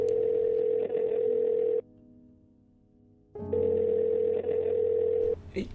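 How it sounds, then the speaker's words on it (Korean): An electronic telephone ring sounds loud and close in two long sustained bursts separated by a quieter gap, like a phone ringing before a call is answered. "양양이 전화를 받았으나 수화기 너머 아무런 소리도 들리지 않았습니다."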